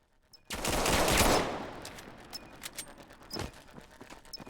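Automatic gunfire in a competitive shooter match, a loud sustained burst followed by quieter scattered shots and clicks at a distance.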